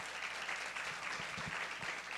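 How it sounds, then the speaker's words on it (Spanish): An audience at a talk on women in the economy claps in a steady wash of applause, dense and even throughout, with no voices standing out. "muchas gracias por estar acá, un gran aplauso."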